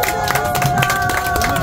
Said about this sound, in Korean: 다 함께 수고했다고 일단 박수 한번 주십시오